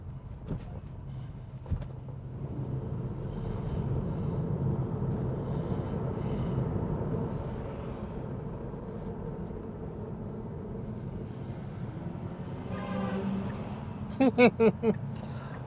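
A car passes close by on a road with roundabouts and divided highways and gives a few short horn beeps near the end, over steady road and cabin noise.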